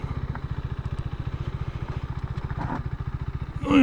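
A Yamaha XS650 motorcycle engine thumps along in a steady, evenly spaced low pulse, running close and fairly loud, with a brief rise in revs at the end.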